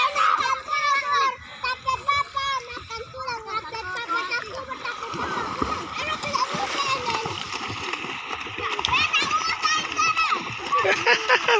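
Children swim and splash in the sea at a village beach, with steady watery splashing, excited kids' voices and shouts throughout, and adult chatter mixed in.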